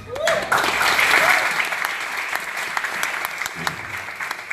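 An audience claps during a Hindi-language church sermon, dense applause swelling loud at the start and then thinning into a steadier, slightly softer patter for several seconds.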